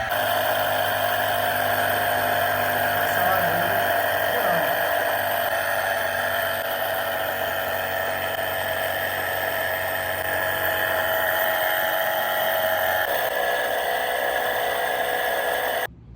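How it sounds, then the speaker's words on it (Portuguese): An X-ray tube's rotating anode motor spins up and the tube fires in a physics laboratory, giving a steady, loud mechanical whine and hum that holds for about thirteen seconds, then changes pitch and stops abruptly. "coloco o anodo para girar e disparo o raio-x"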